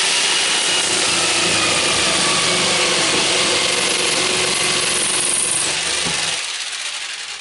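A power saw cuts through a Formica countertop corner during a bathroom sink installation, a loud continuous whining buzz that holds steady for about six seconds, then cuts off and fades.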